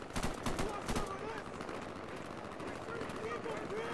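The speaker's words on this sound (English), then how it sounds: "They're still shooting at the Terminator." Soldiers firing at the Terminator in Garry's Mod: a quick rattle of shots up front, then a lower, steadier din of combat noise continuing underneath.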